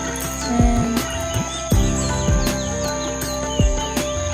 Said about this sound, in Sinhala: ඒ වගේම කුරුල්ලන්ගේ හඬ